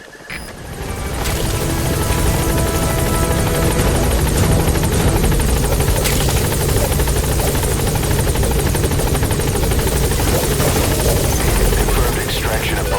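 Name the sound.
helicopter in Metal Gear Solid V video game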